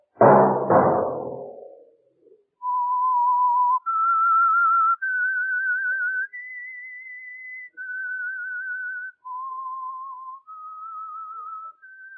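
A knock-like thump, then the clear whistled theme of the 1947 radio drama The Whistler, sustained single notes stepping up and down in pitch, each held about a second with short gaps between.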